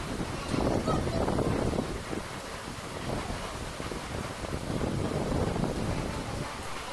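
Rain falls at an open-air temple where the goddess has no roof overhead, a dense steady hiss mixed with gusts of wind buffeting the microphone.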